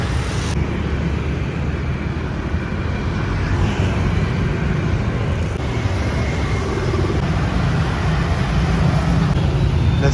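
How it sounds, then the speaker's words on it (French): Dense, loud road traffic in a Vietnamese town in the Mekong Delta, a steady roar of engines passing close by without a break and with no voices over it. "La circulation est effrayante ici."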